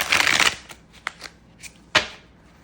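Tarot cards are shuffled close by: a dense riffling burst at the start, then a few soft, scattered card taps and one sharper slap, with no talking.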